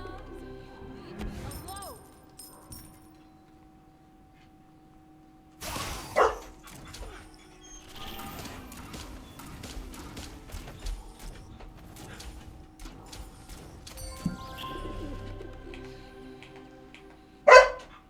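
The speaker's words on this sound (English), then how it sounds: "Lance, stop barking, man." A dog named Lance barks at around 8 a.m., a handful of sharp yaps spread across the stretch at moderate distance, mixed with someone talking and other household noises.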